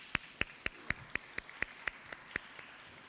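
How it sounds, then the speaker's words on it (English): Applause from an audience at a law school open day, about ten distinct, evenly spaced claps rather than a full crowd, faint and fairly distant, with no talking over them. "I'd like to give them a round of applause just from me and from you"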